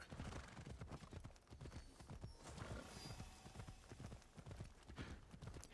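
Horse hooves clip-clop at a steady trot in the Assassin's Creed game set in feudal Japan, with occasional neighs over a continuous backdrop of ambient game sound, and no talk.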